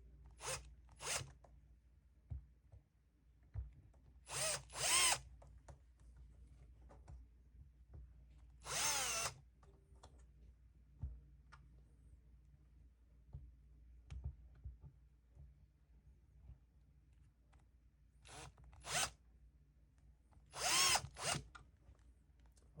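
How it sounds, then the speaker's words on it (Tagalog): Power drill boring holes in a cardboard takeaway box, several short whining bursts of varying length separated by quiet pauses, close and fairly loud against a faint background. "After marking, proceed on drilling the holes."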